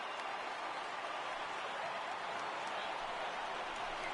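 A stadium crowd of tens of thousands cheers in MLB The Show 18, a steady broadband roar that holds evenly throughout with no distinct peaks.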